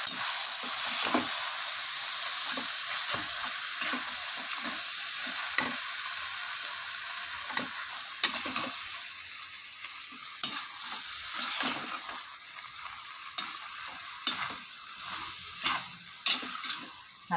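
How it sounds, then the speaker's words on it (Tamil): Cooked broad beans are stirred into a Chettinad-style masala in a pan. A spoon scrapes and turns them in steady, close strokes over a continuous soft sizzle, with no talking. "இதையும் சேர்த்து நல்லா மசாலாவோட கிளறி விட்டுக்கலாம்."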